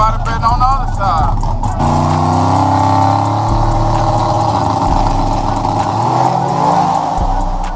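Street race cars on 26-inch wheels accelerate at a drag race, with loud engine roar and rising revs close by while spectators talk and shout over the noise.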